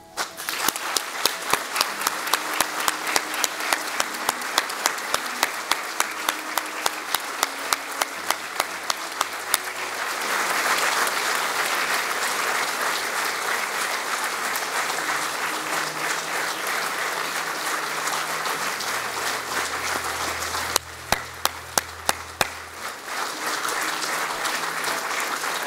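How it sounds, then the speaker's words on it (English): A funeral congregation applauds in a long, sustained round of clapping that fills the room, loud and steady throughout with a brief rise partway through. "joining me in a rapturous round of applause"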